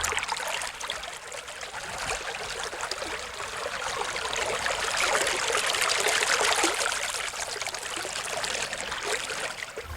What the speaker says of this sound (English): The flow of water fills the penstock, providing the 22-foot head of pressure needed to operate the mill.